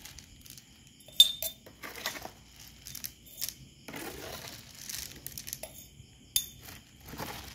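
Dried annatto seeds poured and shaken into a container, giving scattered close rattles, light clinks and rustling bursts with quiet gaps between them.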